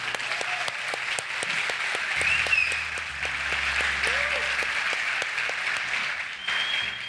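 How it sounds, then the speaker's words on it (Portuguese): A crowd claps continuously in sustained applause, with some voices and cheering mixed in. "Vamos dar uma salva de palmas."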